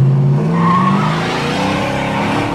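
A heavily loaded car does a burnout with tires squealing and smoking, giving a loud, continuous engine roar and tire screech close by, steady for a few seconds.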